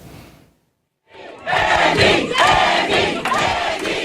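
Supporters of Andy Kim, a second-generation Korean American Democrat running for a New Jersey House seat, cheer on election night: after a brief silence a dense crowd roar swells and holds loud, with shouts rising through it.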